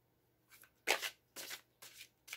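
Osho Zen Tarot cards are shuffled by hand in short, crisp riffling bursts, four or five quick flutters separated by brief pauses, close and clear against a quiet background.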